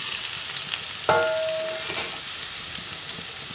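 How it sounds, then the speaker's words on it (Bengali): Brinjal and raw banana pieces are dropped into hot oil with other vegetables in a pan for a Bengali shukto, bursting into a sudden loud sizzle with a brief metallic ring, then a steady crackling fry close by. "সবই একসঙ্গে এরপরে ভেজে নেব। সব সবজি ভেজে নিলাম।"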